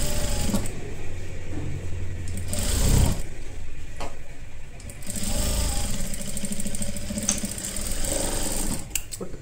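A sewing machine stitches fabric for a halter neck blouse in fast, steady runs of rhythmic needle clatter, pausing briefly once before resuming, close and fairly loud.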